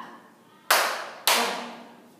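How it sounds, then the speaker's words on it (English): Two sharp, unison claps from a group of children in an English class, spaced about half a second apart, each with a short ringing decay in a quiet room. "Clap."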